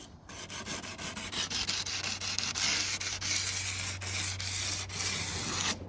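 Plumbers sanding tape rubs back and forth along the edges of truck panels, a steady close abrasive rasping with rhythmic strokes and a low hum underneath, no talking.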